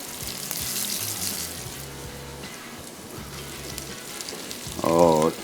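Kebabs sizzle and fry in a pan in a kitchen, a steady crackling hiss throughout with low clatter, and a brief louder burst of sizzle near the end.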